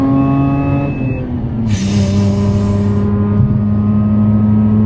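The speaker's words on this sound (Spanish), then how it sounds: "Este motor está pensado para trabajar arriba y entregar fuerza arriba, y aquí es donde está brillando." A Mazda RX8 with a direct manual gearbox from an MX-5 NC pulls hard at high revs, its loud, close engine drone dipping briefly in pitch mid-run before climbing again.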